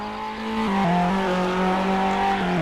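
New event car's engine in a video game, a loud continuous engine drone with shifting pitch steps as it revs, steady throughout.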